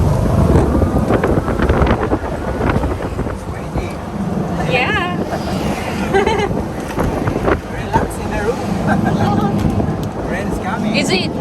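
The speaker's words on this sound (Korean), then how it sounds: "엄청난 바람." Strong wind buffets the microphone in a seaside setting in Bohol, a loud rumbling roar with gusty swells throughout, while people talk over it.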